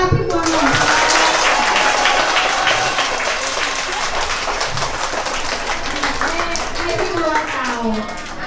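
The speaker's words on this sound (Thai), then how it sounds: "ตอนนี้พี่บัวก็มาถึงเรียบร้อยแล้วขอเสียงปรบมือต้อน" Schoolchildren at a Thai school welcoming a guest clap together in a dense, continuous round of applause, with a voice speaking over it.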